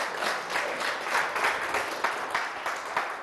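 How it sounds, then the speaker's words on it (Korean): An audience at a laughter talk claps in a steady, moderately loud round of applause, continuous dense clapping with no voices over it. "박수"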